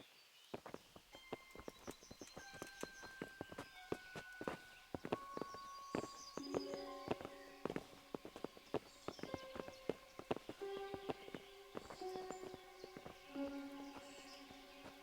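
Horses clip-clop in a rapid, overlapping run of hoofbeats in the medieval game Kingdom Come: Deliverance, the steady clatter filling the whole stretch alongside tonal music with no talking.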